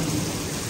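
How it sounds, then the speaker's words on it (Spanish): Thunder rumbles through a heavy downpour, with dense steady rain drumming loudly throughout and no voices over it. "Uy, ¿cómo truena?"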